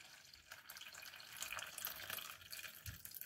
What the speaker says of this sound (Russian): наливаю заранее отмеренное количество воды